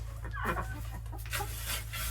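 Chickens in a coop making soft, scattered clucks close by, several short calls over a low steady hum.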